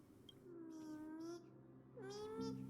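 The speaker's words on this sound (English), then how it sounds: "Little grey, little cat, you're so strong!" A little grey cat in the Honkai Star Rail video game gives two drawn-out meows, close and clear, with a short pause between them and no talk over them.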